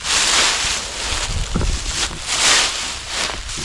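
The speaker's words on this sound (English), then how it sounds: "But as you can see, the wind's coming" Wind gusting against a plow-point tarp shelter pegged down all the way around: a steady broadband rushing roar that swells and fades in gusts, with flapping and rustling of the tarp, no talking.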